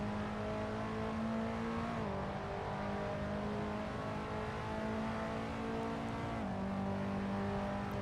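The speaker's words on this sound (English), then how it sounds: "From inside Adrian's car" KTM X-Bow GT4 race car engine in Assetto Corsa heard from the cockpit at Summit Point: a loud, continuous high-revving drone with two brief dips in pitch at gear changes, alone with no talk.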